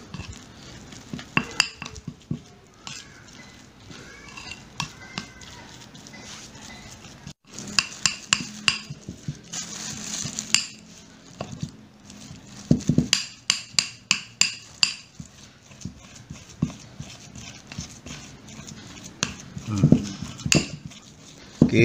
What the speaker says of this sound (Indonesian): Lalu kita aduk kembali hingga benar-benar rata.